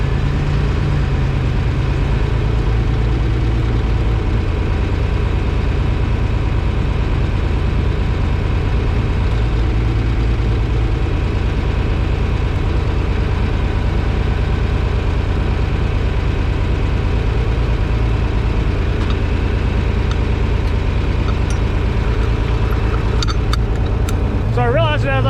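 A John Deere 4020 tractor idles steadily after starting, a loud, low, continuous engine rumble that stays even throughout, with a voice talking over it.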